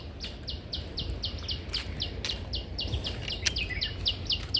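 Birds sing outdoors in a village in a steady series of short, bright chirps repeating about twice a second, fairly faint over soft background hiss.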